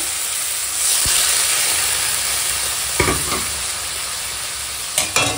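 Water poured onto Kashmiri chilli, turmeric and dried chilli powders frying in a pan gives a loud, continuous steamy sizzle and hiss, with a few short clatters of stirring.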